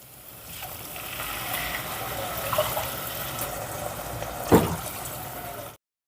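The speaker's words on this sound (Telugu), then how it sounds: "మనం ఏ కప్పుతో అయితే ఉప్మా రవ్వ తీసుకున్నామో అదే కప్పుతో మూడు కప్పులు వాటర్ పోసుకుందాం" Three cups of water poured into a pan for upma, a steady close pour that rises and gently splashes for several seconds before stopping abruptly, with no voices.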